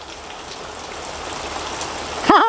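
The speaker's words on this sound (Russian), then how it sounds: "Природа, поезд и дождь." Steady rain falls outdoors during a forest bike ride near a railway, a continuous even hiss of drops on surfaces that ends in a sudden louder disturbance.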